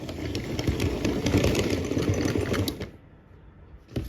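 A K-Line Reading GP-39 model locomotive runs roughly, a close, loud, rattling motor drone that churns unevenly for about three seconds and then cuts out, followed by a faint click, with no talking.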